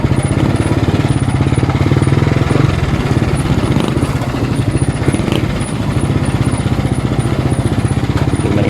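Engine with a faulty tensioner, a loud, fast rattling clatter that runs steadily throughout over a low rumble, close up and with no talking.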